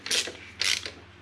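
A nut on the threaded rod of a Toyota 1UZ alternator tensioner is tightened with two quick ratcheting bursts from a wrench, close and crisp, with no talk.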